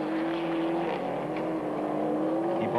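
A Subaru rally car in the 1996 WRC Rally Argentina accelerates out of a right-hand corner on a gravel stage, its engine a loud, sustained droning roar heard close.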